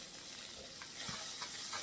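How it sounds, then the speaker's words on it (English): A vegan burger patty searing in a pan with vegan butter gives a steady, faint hissing sizzle with a few soft stirring scrapes, and no one speaks. "I'm going to simply sear it over, and you can see that it's browning already"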